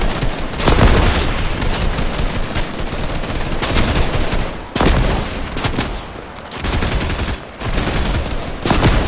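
Minigun fire in the video game Fortnite, a loud, dense, continuous rattle of rapid shots in long bursts with only brief breaks, close and overwhelming.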